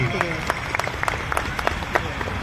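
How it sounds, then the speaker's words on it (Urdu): Audience at a Mahatma Gandhi Peace Award ceremony applauding to welcome two guests, a steady wash of many hands clapping with scattered sharper claps, fairly loud and close. "اس لیے زوردار تالیوں سے ان دونوں حضرات کا استقبال کیجیے"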